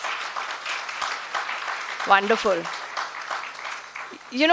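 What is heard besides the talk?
students' applause and clapping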